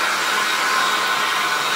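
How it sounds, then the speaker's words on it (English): A hair dryer runs on its high setting, drying a photo transfer on wood, a steady loud airy whoosh holding constant without talk. "Put your hair dryer on high"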